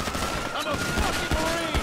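Rapid gunfire bursts in a police video game, several sharp shots cracking out in quick succession over a busy game soundscape with a low rumble underneath.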